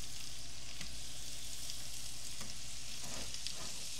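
Cheese slices fry in heated butter in a pan, giving a steady close sizzle with faint crackling throughout and no voices.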